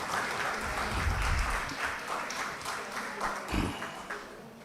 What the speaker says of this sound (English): So huge round of applause.